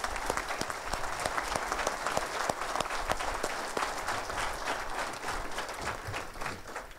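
Sustained applause from an audience honoring police department staff, dense clapping with sharp individual claps standing out, steady and fairly close throughout.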